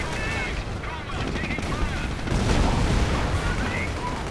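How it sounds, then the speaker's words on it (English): Artillery firing in a WWII tank strategy game, with dense rumbling booms and crackling gunfire layered into a continuous loud barrage alongside faint tonal game sounds. "artillery firing"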